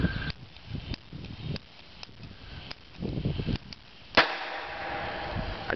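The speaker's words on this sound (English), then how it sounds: "And I'm using much louder bangs." Hydrogen-filled soap bubbles in water with dishwashing detergent explode one after another, a series of sharp, loud bangs spaced about a second apart, the final one the strongest and followed by a ringing tail.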